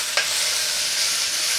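Onion frying in a hot pan with cumin and chilli as a beef tongue roast is being prepared, giving a steady close sizzle throughout with one brief stir near the start.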